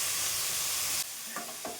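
Vegetables frying in a pan with salt added, a steady loud sizzle that suddenly drops away, followed by a few soft scraping stirs near and close.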